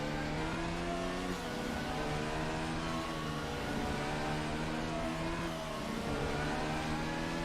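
Several race cars in a sim racing championship event roar onto the banked oval together, a loud steady engine drone with harmonic tones shifting as they sweep past, continuous throughout with no talking.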